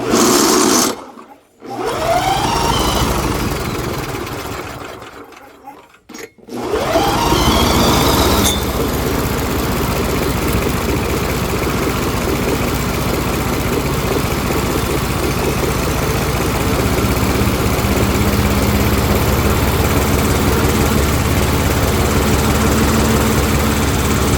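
Small lawn mower engine with no compression running steadily and loud after a couple of brief stops near the start, a continuous buzzing drone.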